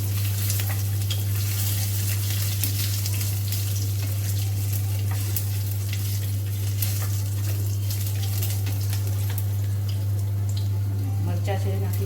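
Ginger pieces hit hot oil and sizzle steadily and loudly for the whole stretch, a dense crackling fry with a constant low hum underneath and occasional stirring clicks, no voices over it.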